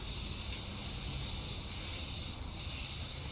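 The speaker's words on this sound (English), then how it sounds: "I'm just gonna spray it down so I don't see any suds coming off." Steady, loud hiss of water spraying from a hose onto a horse's legs, continuous and close with no pauses or voices.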